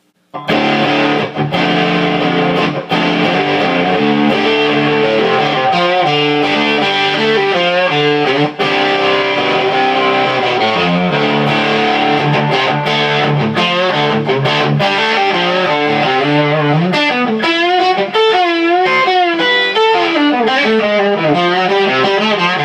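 Loud, thick fuzz-toned electric guitar through a KHDK Scuzz Box germanium fuzz pedal, deep knob raised, playing continuous riffs with bent notes and saturated sustain, close up with no talking.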